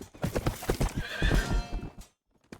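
Hooves clip-clop in a quick run as a horse neighs loudly and close in the For Honor campaign, then everything cuts to near silence.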